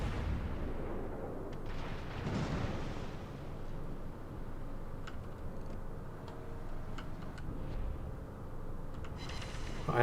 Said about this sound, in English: Even with the Ibuki firing at me.